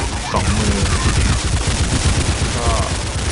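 Rapid gunfire in Counter-Strike 1.6 from the B15 weapon, a dense, loud burst of shots with booming low thuds running continuously from start to end, over a busy game backdrop.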